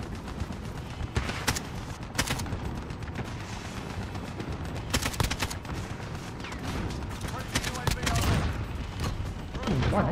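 AK-47 gunfire in Call of Duty Modern Warfare, with repeated sharp bursts and single shots cracking through a steady, noisy game mix while a voice talks over parts of it.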